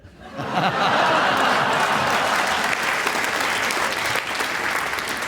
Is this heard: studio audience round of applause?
yes